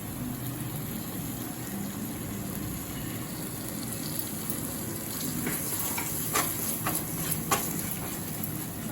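Ginger paste going into a hot pan for paneer butter masala brings a steady close sizzle and frying hiss, with a few sharp clicks and scrapes near the end and no talking.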